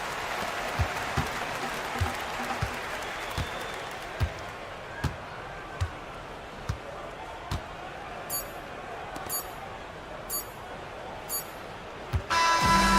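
Crowd in a basketball video game applauding a home win, steady broad cheering and clapping throughout, with a ball bouncing rhythmically in the foreground and a commentator talking over it.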